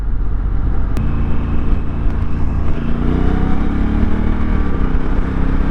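A 2025 Honda Africa Twin motorcycle with a DCT gearbox pulls under throttle on a ride, a loud steady engine drone with a faint rise in pitch around the midpoint, heard close for about six seconds with no talking.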